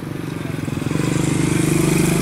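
Motorcycle engine near a collapsed bridge in rural Indonesia, a close, rhythmic putter that swells louder as it approaches and keeps chugging steadily, with faint background voices.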